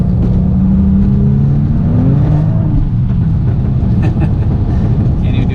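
An Audi B5 S4 fitted with a new 3-bar map sensor and tune accelerates hard through fourth gear, its loud, close engine note droning continuously and climbing in pitch throughout.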